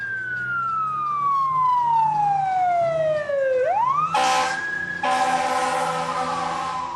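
A fire engine's siren wails loudly nearby at a trolley crossing, one long falling sweep, then a quick rise into a harsh blaring electronic tone that holds steady.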